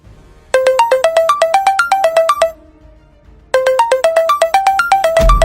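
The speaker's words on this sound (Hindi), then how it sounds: "बेटे का फोन।" A mobile phone ringtone plays loud and close as a bright repeating melody of quick electronic tones, runs for about two seconds, pauses briefly, then starts again; a low thump lands at the very end.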